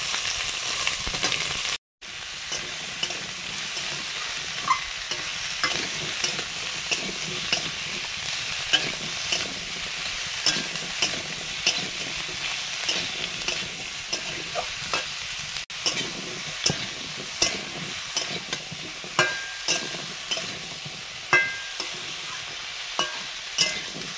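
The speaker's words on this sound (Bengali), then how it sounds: "সবজিটা দিয়ে দিচ্ছি।" Squash and other vegetables fry in a pan with ground cumin paste, a steady loud sizzle broken by the repeated scrape and clatter of stirring, with no talk.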